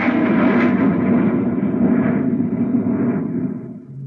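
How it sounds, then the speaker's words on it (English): A rocket blast-off effect for a radio drama: a loud, sustained, rumbling roar that fills the whole stretch and fades slightly at the end. "Countdown for a blast-off."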